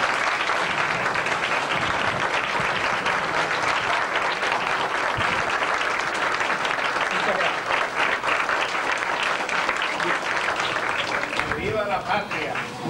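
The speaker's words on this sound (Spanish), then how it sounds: "un fuerte aplauso todo de pie," A standing audience applauds loudly and steadily throughout at a homage ceremony in Pedernales, Dominican Republic, the dense clapping filling the room with some voices mixed in.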